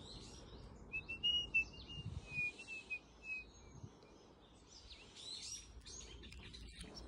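Several birds chirp and tweet outdoors in short high calls scattered over steady low background noise, fairly faint and continuing throughout with no talking.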